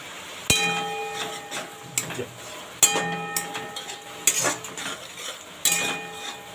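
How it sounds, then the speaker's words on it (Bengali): Yogurt goes into softened onions in a pan while cooking a Bengali yogurt prawn dish; a metal spoon clinks sharply against the pan several times over a faint, steady sizzle. "পেঁয়াজটা আমি নরম হয়ে যাওয়ার পর আমি এবার দই দিচ্ছি"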